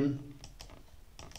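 A password goes in on a computer keyboard as a handful of soft, close key taps in an irregular rhythm, following a brief bit of voice at the start.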